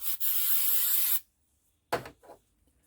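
RP90 penetrating oil sprayed onto a sheared screw on a 1946 Boxford lathe: one long, loud, steady hiss of about a second, then a short second burst with a trailing puff.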